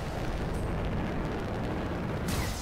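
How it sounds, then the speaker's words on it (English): A dense, roaring blast from the video game Anthem fills the whole short stretch, a loud continuous rumble with debris-like crackle and a brighter burst near the end. "It'll be a contained explosion."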